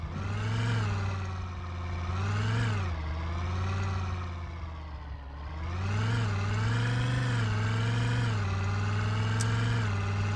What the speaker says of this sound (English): Whoa, this is a loud car.